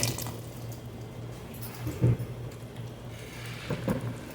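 Boiled water broth pours into a cooking pot for sardines with patola and misua, a steady trickling stream with a low hum beneath and a couple of louder splashy clunks, close by, no talking.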